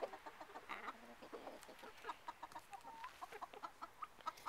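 A rooster crows at a distance, faint but clear, amid scattered clucking from other fowl, with no talking.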